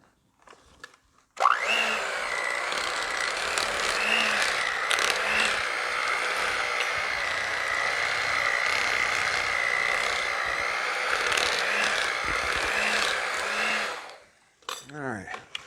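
An electric mixer whips cream cheese for keto strawberry cheesecake tarts, its motor whirring loudly and steadily for about twelve seconds with small wobbles in pitch before shutting off.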